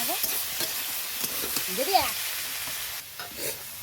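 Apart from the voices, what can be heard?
stirring boiled cauliflower frying in a pan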